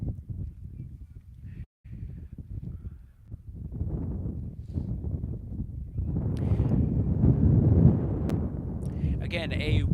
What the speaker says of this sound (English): Again, a windy affair here today.